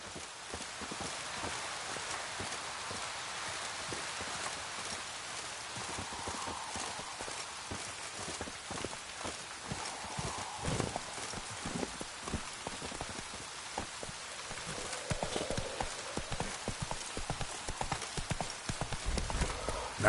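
Roach, Geralt's horse in The Witcher 3, gallops through steady rain, hooves clip-clopping in a fast continuous rhythm over the constant patter of raindrops, close and fairly loud throughout.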